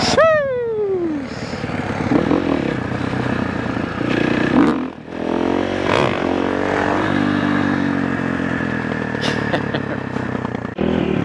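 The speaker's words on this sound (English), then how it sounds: "First wheelie on the YZ450" A Yamaha YZ450 dirt bike pulling a wheelie, its engine revving loud and close with a falling pitch at the start, then a sustained roar with a brief dip midway.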